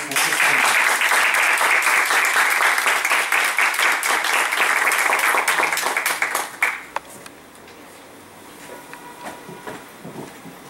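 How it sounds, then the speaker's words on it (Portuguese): An audience at a theological gathering gives a loud, sustained round of applause to welcome a speaker, many hands clapping densely for about six seconds before it quickly dies away into a quiet room with faint scattered sounds. "saudamos ela com uma salva de palmas"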